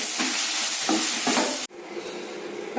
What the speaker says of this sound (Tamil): தக்காளி போட்டு நல்லா வதக்கணும்.